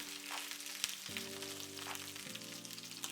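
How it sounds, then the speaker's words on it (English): Garlic, onion, roma tomatoes, guajillo chiles and chiles de árbol fry in hot oil for a Mexican shrimp soup, giving a steady, close crackling sizzle that runs unbroken for the whole stretch. "Move them around and make sure they fry on all sides."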